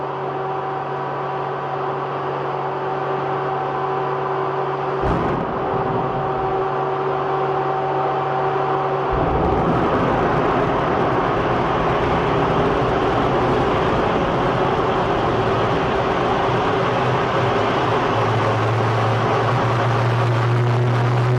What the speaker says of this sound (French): Turbine en mode test.